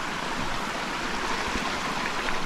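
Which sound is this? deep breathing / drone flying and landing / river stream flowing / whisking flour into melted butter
river stream flowing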